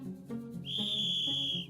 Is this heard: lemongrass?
no